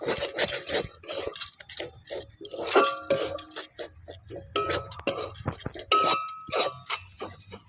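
Spoon scraping and clinking against a pan while stirring kachori filling with curry leaves and garam masala, irregular metallic knocks and scrapes at close range over low heat, no talk.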